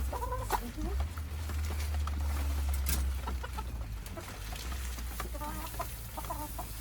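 Chickens cluck in and around their coop, with repeated close clucks and short calls scattered through the clip over a steady low rumble and faint background noise.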